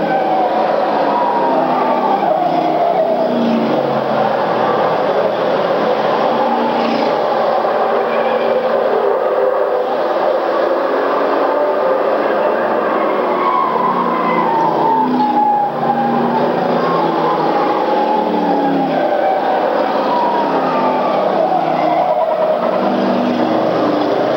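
Race cars roar around an oval speedway during a 1994 feature race, a dense continuous engine drone from several cars at once, loud and steady with slight rising and falling passes.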